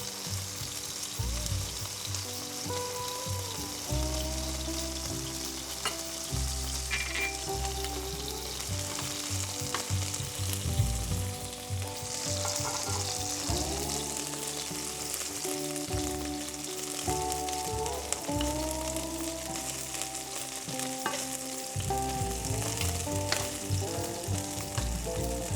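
Steak sizzling and frying in boiling Mongolian beef sauce, a steady loud crackle throughout with occasional stirring and background music underneath, no talking.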